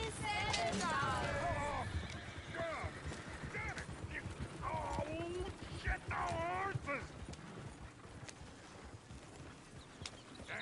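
Horse hooves clip-clop in Red Dead Redemption 2, a steady rhythmic beat of footfalls beneath game character dialogue and occasional whinnies, fairly quiet overall.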